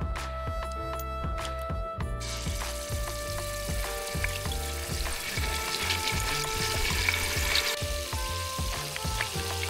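Steady sizzling of onion paste frying in two tablespoons of oil in a pan, a continuous crackle, with faint background tones and no talking.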